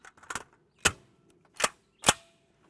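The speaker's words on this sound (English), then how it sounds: "we'll take a shot of our Black Dragon Fang from our longer barrel length" Four sharp, loud gunshots from a handgun firing Black Dragon Fang rounds through a longer barrel at a ShotStop Level IIIA armor plate, cracking out alone in an uneven sequence with brief silences between them.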